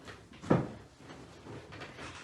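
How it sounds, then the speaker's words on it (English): A door being opened indoors: a single short knock-like thud of the latch and door, near and moderate, followed by quiet room noise. "would you please open the door for them?"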